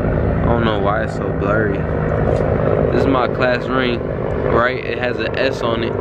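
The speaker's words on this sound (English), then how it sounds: "Please excuse that helicopter that's going by." A helicopter passes overhead, its steady low rumble and rotor drone running continuously beneath a person talking close by.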